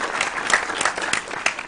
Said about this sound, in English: Round of applause for this round.